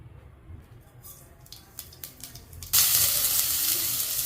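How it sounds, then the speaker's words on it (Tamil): Mustard seeds hit hot oil with a few scattered clicks at first, then burst into a loud, dense, crackling sizzle that holds steady to the end, close up. "இப்போ எண்ணெய் காஞ்சதும் கடுகு போடணும்."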